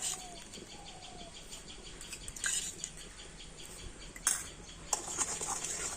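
A spoon clinking against a pot or bowl as powdered sugar is added to milk, a few light scattered taps at a quiet level, with faint birdsong and room ambience behind.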